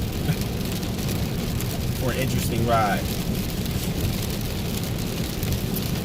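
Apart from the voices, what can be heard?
heavy rain during a drive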